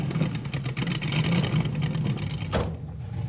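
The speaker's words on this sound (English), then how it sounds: "I'm gonna chalk the front wheels and we'll try a burnout." Mazda car engine revving hard for a burnout attempt with the front wheels chocked, a loud sustained roar with a steady low drone that cuts off sharply near the end.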